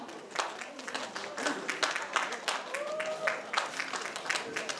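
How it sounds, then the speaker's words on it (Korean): An audience at a disability community festival and singing contest in a Jongno district hall applauds to welcome a singer, with scattered claps and a brief voice over the crowd. "사나이 나오면 박수로 불러주실까요?"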